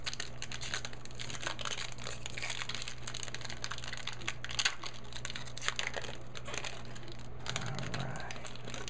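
Crinkling foil wrappers of Pokémon 20th Anniversary booster packs being torn open, a steady close rustle and crackle running throughout with a few sharper tearing peaks, over a low background hum.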